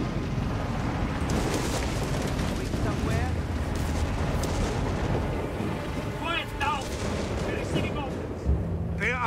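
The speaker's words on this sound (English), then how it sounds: "Incoming artillery! They are trying to scatter us!" Artillery fire in the video game Company of Heroes 3, set in a North Africa campaign: a dense, continuous barrage of booming shell impacts and rumbling explosions, with battle noise and voices speaking over it.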